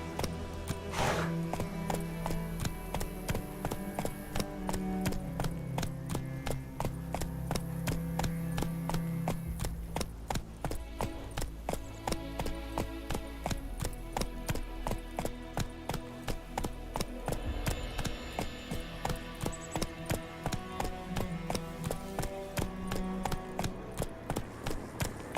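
The horse Roach gallops in The Witcher 3: Wild Hunt, rapid rhythmic hoofbeats pounding steadily and close for the whole stretch, with a low ambient game score underneath.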